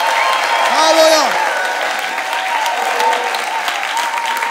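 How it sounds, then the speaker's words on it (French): A church congregation applauds during worship, steady loud clapping filling the space while a sustained sung or shouted voice rises and falls above it. "Applaudissez le Seigneur"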